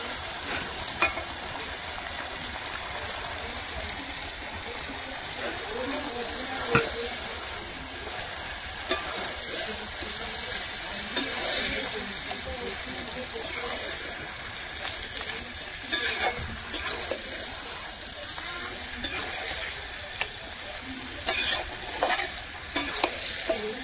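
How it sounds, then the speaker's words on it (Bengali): Masala paste fries in oil for a chicken-skin dish. A soft, steady sizzle runs throughout, with occasional stirring scrapes and clinks of the spoon, at close range and fairly quiet. "এবার কিন্তু মশলা কষা হয়ে গেছে"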